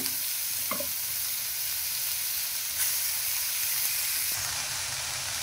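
Cabbage, onion, carrot and tomato fry in a pan for a veg momo filling, producing a steady close sizzling hiss that holds evenly throughout, with faint stirring knocks.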